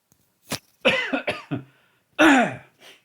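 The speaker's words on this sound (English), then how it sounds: "I'm covering this microphone to cough," A person coughs several times in quick bursts, harsh and close, with short pauses between the fits and a final softer cough.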